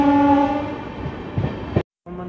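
The LHB-coach Amravati Express passenger train speeds past a skipped station, its loud rumble carrying a steady horn tone at first, then clattering wheels before a sudden brief cutoff and a resumed roar.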